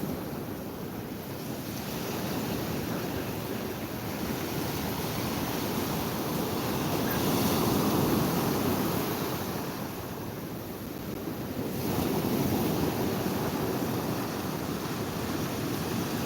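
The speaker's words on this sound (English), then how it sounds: "Just listen to the sound of the waves for a second." Ocean surf breaking on the beach below the bluffs at Mavericks, a continuous broad roar that swells and recedes in slow surges, mixed with wind rumble on the microphone and no voices.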